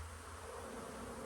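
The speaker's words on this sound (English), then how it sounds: "bees that are just orienting and some bees that are returning to the hive" Honeybees buzz around the entrance of a hive, some orienting and others returning, making a dense, steady drone close to the microphone with no voices.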